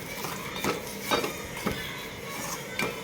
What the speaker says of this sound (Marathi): रवा आपल्याला म्हणजे थोडक्यात तुपामध्ये शिजवून घ्यायचा असा हलवून